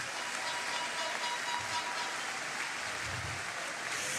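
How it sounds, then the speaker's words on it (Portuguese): A congregation at a men's church congress claps, a dense, distant wash of applause that stays even and steady throughout, blurred like rainfall. "Se é para Jesus, aplauda mais forte."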